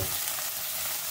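Sliced onion frying in hot oil in a pan with green chillies and curry leaves, a dense steady sizzle and crackle, close and continuous.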